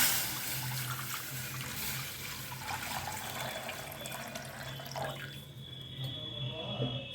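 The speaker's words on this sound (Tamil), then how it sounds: "செம்பு நிறைய தண்ணி எடுத்து ஊற்றிருக்கேன்" Water poured from a brass vessel into a cooking pot while making rava kesari, a continuous trickling and splashing pour that tapers off near the end, with faint kitchen background.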